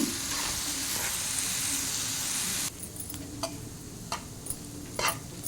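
Potatoes frying with salt, chili powder and turmeric in a pan, giving a steady loud sizzle that drops suddenly to a quieter crackle with scattered pops and ticks.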